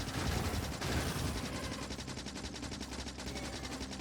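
Rapid automatic gunfire from shooting in the video game Factorio, a dense continuous rattle of shots sustained throughout at moderate level, with no talk over it.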